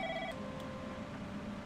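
A telephone rings indoors near a cubicle, a brief electronic ring burst that quickly cuts off, leaving a steady low hum.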